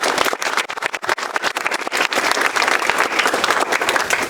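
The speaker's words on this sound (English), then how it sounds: "Please join me in thanking them with a round of applause." Audience at a National Honor Society induction ceremony breaking into a round of applause, dense continuous clapping from many hands filling the room, fairly loud and sustained with no voices over it.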